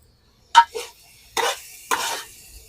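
Food is stirred in a pot so it won't stick, heard as four separate scraping strokes of a spoon against the vessel, close and clear in an otherwise quiet room.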